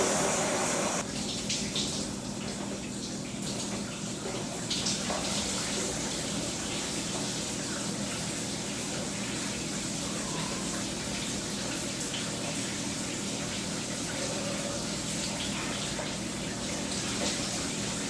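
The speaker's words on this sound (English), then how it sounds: "gotta do a cold shower to wake up, so that's exactly what we're gonna do" A cold shower runs in a house, with water pouring in a steady, loud, broad hiss that continues unbroken throughout, alone and without voices.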